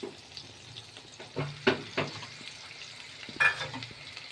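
Oil and a knob of butter in a pan before rice goes in: a soft, steady sizzle close by, broken by a few scraping stirs and light clinks of a utensil.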